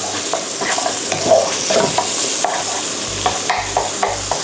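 Zucchini stir-fries in a pan over high heat, a loud close sizzle under brisk, uneven scraping of the utensil against the pan, with a few soft thumps toward the end and no voices.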